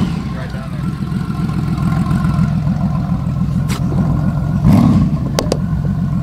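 A 1997 Honda Valkyrie GL1500 motorcycle engine rumbles loud and close, its steady low drone swelling slightly as the bike pulls away, with a few brief clicks near the end.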